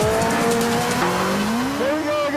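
Caparo T1 braking hard, tyres squealing in long wavering pitches over engine noise, loud and close, with a voice talking over it.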